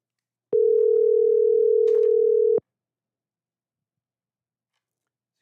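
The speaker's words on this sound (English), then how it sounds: "Little dialing music, Paul." A phone call dial tone sounds as one loud, steady electronic tone lasting about two seconds, starting and stopping abruptly, then silence with a brief click at the end.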